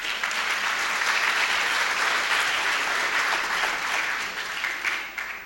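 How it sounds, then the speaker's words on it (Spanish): An audience at a mathematics origami talk applauds the presenter Marcel. Loud, dense, continuous clapping fills the room, then thins and fades in the final second. "Aplausos para Marcel."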